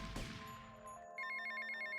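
A mobile phone rings in Grand Theft Auto: Vice City, a short electronic ringtone starting after a burst of in-game noise and continuing steadily for about a second, clear and close.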